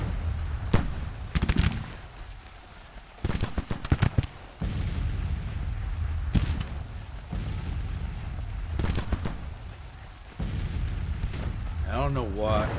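Artillery battery firing canister shot in Grand Tactician: The Civil War, a series of sharp booming volleys at irregular intervals, each followed by rumbling decay, with loud battle noise between and a voice speaking near the end.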